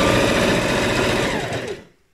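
Sewing machine stitching kimono seams, a close, steady high-speed buzzing run that slows and stops near the end, leaving silence.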